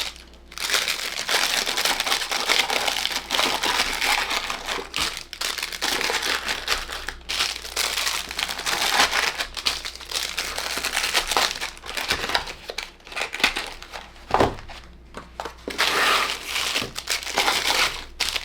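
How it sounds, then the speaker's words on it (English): Cellophane wrap around homemade menthol shower steamers is folded and handled up close, producing loud, continuous crinkling and crackling with brief pauses between handfuls. "I do kind of like fold the cello a bit. And it is very crinkly."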